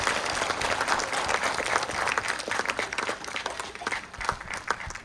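Crowd applauding a speaker at an astronomy talk event in a university planetarium: dense, sustained clapping from many hands, steady and fairly loud throughout with no break.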